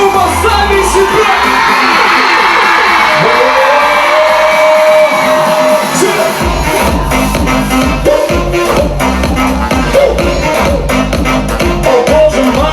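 A large concert crowd cheers, whoops and shouts loudly and continuously, a dense wall of voices close around, with amplified sound and thumping pulses joining in the latter half.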